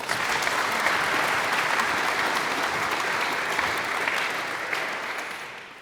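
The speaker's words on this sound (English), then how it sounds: "Let's give them one more round of applause" Sustained, dense applause from an audience at a university faculty excellence awards ceremony at UNT, steady and loud throughout with no voices over it.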